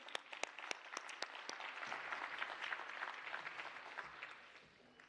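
A conference audience breaks into applause, starting with a few sharp individual claps that build into dense, steady clapping, then taper off after about four seconds; soft and heard from a distance.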